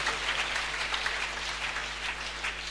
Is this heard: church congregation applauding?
yes